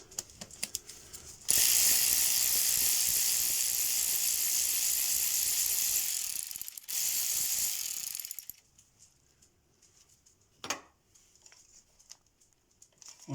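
A ratchet wrench loosens and unscrews the fuel injector clamp bolts on a car engine, giving a loud, close, rapid ratcheting that runs steadily for about seven seconds before dropping away to near quiet, with one brief clack.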